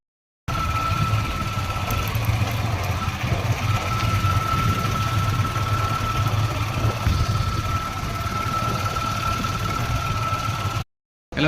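A motorcycle engine runs steadily at close range with a low, even rumble and a faint mechanical knock, holding constant for about ten seconds before cutting off abruptly.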